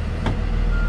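A truck shifted into reverse gear during a brake check gives one short reversing beep over the steady rumble of its idling engine.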